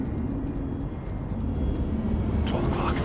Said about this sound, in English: Oh yeah, there's a jet.